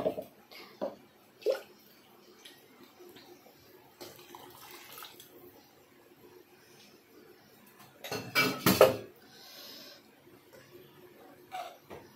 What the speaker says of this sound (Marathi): आपण ह्याच्यात पाणी टाकून घेऊया